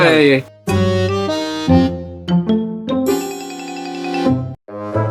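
A phone ringtone chimes loudly in a repeating melodic pattern, briefly pausing before it starts again.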